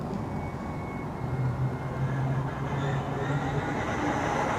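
A brushless RC truck runs at full throttle, giving a steady, loud, rushing motor and drivetrain roar that holds evenly for the whole stretch with no talking.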